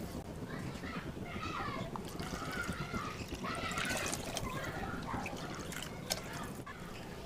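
Water is poured into a pan of roasted semolina while cooking a vegetable breakfast dish, a soft continuous trickle and splash under a voice talking throughout.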